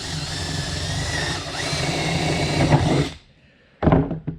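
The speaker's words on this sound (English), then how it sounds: "check twice, drill once." A power drill with a 10mm bit whirs steadily for about three seconds as it bores a dowel hole, then stops; a short clatter follows.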